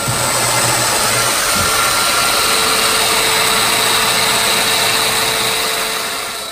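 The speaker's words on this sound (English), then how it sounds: "here we're just drilling in dominoes" A steady, loud motorized whine of a domino joiner cutting mortises in wood for a headboard, running continuously with a faint low hum underneath, close by and without pauses.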